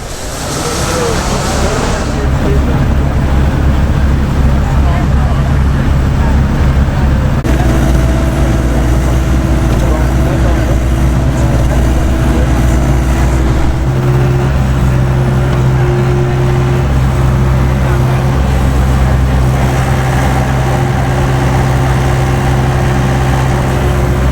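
A John Deere 60G compact excavator runs at an outdoor equipment expo with a steady, loud engine drone, holding an even pitch that shifts up a little partway through and continues without a break.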